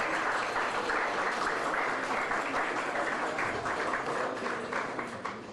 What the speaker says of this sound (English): Give them a round of applause for our private